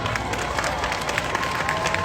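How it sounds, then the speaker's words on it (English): An audience at a live motivational event applauds, a dense wash of clapping hands spread evenly through the room, with faint cheering mixed in. "we should give him a round of applause"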